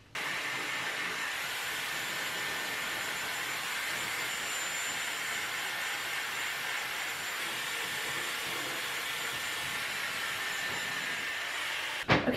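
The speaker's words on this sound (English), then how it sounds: "So I'm just gonna do a little rough dry with the blow dry attachment." Dyson Airwrap with its blow dry attachment rough drying hair: a steady, loud airy whoosh runs unbroken close to the listener and stops abruptly with a click at the end.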